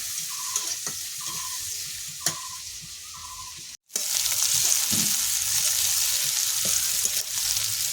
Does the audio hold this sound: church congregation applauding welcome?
no